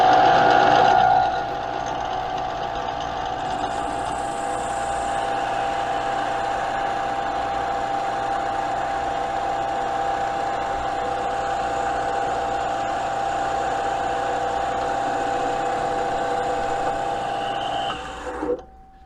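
A Smithy lathe-mill-drill combination machine turns a steady metal-cutting pass of about eight thousandths of an inch, a continuous motor hum and tool whine that runs unbroken for roughly seventeen seconds before winding down at the end.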